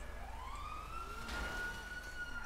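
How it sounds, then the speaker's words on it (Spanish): Ambulance siren in the GTA V video game: a single rising wail that climbs and then holds a steady high tone, fairly faint against a low rumbling background, with no talk. "aquí hay una ambulancia"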